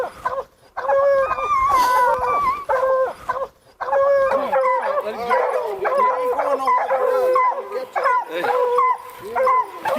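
Hunting dogs bay at a mountain lion treed on a hunt, loud close howls and yelping barks repeating in ragged overlapping bursts with short pauses between.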